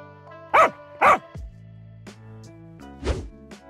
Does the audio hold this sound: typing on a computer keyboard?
no